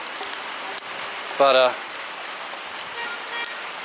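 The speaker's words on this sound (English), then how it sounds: "the rain just turned crazy" Heavy rain in Meghalaya, India, pours steadily as a close, dense hiss, with a brief spoken word cutting in partway through.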